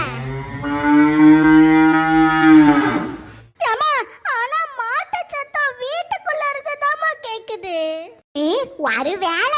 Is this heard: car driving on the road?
no